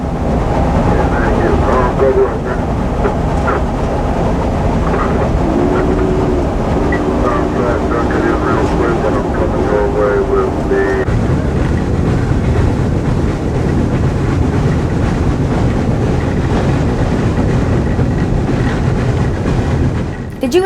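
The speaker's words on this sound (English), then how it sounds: "as the train works up the grade" Union Pacific Challenger 3985 steam locomotive works up the Cajon Pass grade, heard from inside the cab as a loud, continuous rumble and roar of machinery with rhythmic clanking throughout.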